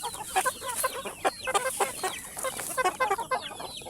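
A Shamo gamefowl rooster clucks and calls repeatedly in quick bursts, fairly close, with a busy, continuous chatter of fowl filling the background.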